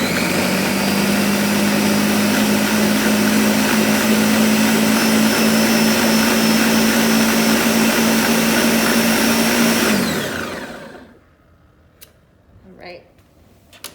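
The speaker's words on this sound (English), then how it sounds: "I am going to turn the blender on medium until it's all mixed together" A kitchen blender runs on medium speed mixing paleta ingredients, a loud steady whirring motor hum for about ten seconds before spinning down and stopping, with quiet sounds after.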